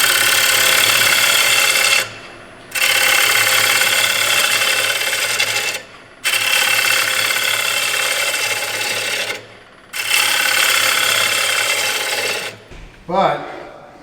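A wood lathe spins a platter while a bowl gouge cuts it, a loud continuous rasping hiss in long passes broken by short pauses, with a low motor hum underneath.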